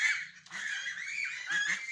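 Poultry call noisily for grain in the morning, a close, continuous chorus of honking, goose-like squawks overlapping in several bursts.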